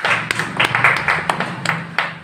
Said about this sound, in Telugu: మీరు ఆమోదిస్తే చప్పట్లు కొట్టండి